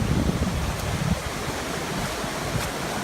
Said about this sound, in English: Down there is a beautiful waterfall.